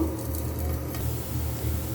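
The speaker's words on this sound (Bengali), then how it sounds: "রসুন এবং শুকনো মরিচ ভালো করে ভাজা হয়ে গেছে" Garlic and four dried red chilies sizzle in a hot pan, a soft, continuous frying hiss held at an even, fairly quiet level with no talking.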